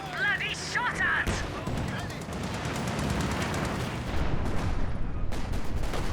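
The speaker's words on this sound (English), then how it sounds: "we're being bloody shot at" Gunfire and explosions from the World War II strategy game Company of Heroes 2 during a 2v2 match, a dense continuous clatter of small-arms fire with heavier booms, with someone talking over it.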